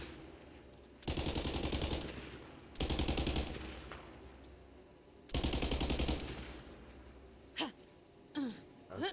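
Bursts of rapid automatic gunfire from the Borderlands 3 video game, three loud sustained volleys with short pauses between, followed by a few faint sharp effects.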